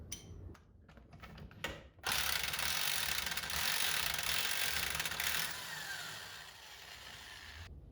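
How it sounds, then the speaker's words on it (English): A breaker bar on a 27 mm impact socket loosening a temperature sensor on an intake manifold: a few sharp ratcheting clicks, then a long, loud, harsh grinding rasp that fades toward the end, with no talk. "This is a 27 mil impact socket just in case. Grab a breaker bar."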